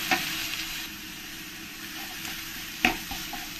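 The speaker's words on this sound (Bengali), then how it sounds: "পেঁয়াজের সঙ্গে কষিয়ে নেব" Onion paste sautéing with fried onions in a pan for a country-style chicken curry with potatoes, giving a steady soft sizzle with a couple of sharp spoon clinks, no talk.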